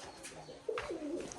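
Pigeons coo inside a small handmade indoor loft, one soft rolling coo rising then falling, faint and close, with no talk.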